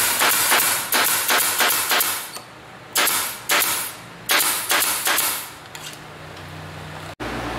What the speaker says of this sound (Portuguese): eu vou pinar agora.